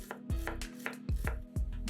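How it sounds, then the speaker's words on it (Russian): A knife finely dices an onion on a cutting board, four crisp, evenly spaced chops that ring close and clear with nothing else heard. "Лук нарезаем мелкими кубиками."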